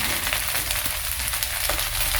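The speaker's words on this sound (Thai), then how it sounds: "ผัดอย่างเร็วๆ ไฟ ไฟแรง ใช้เคาะกระทะนิดหน่อยนะ" Continuous loud sizzling and frying of rice in a wok over high heat, with faint scraping and stirring noises underneath, close up and steady throughout.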